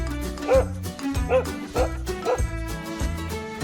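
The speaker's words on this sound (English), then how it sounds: "It's a dog." A dog barks in a short series of four or five close yips and bow-wows, with faint whimpering between the barks, at moderate loudness.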